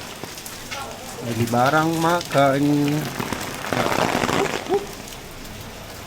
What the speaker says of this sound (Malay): Makin lama makin lebat pula hujan